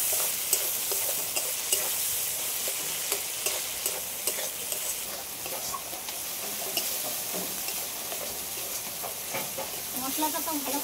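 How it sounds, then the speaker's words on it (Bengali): Ground spice paste frying in oil in a pan for a Bengali fish curry with ridge gourd and potato, a steady close sizzle punctuated by frequent spatula scrapes and clicks, with faint bubbling near the end. "সবশেষে বেটে রাখা মশলা সবগুলো একসাথে একটু ভালো করে কষিয়ে নেব"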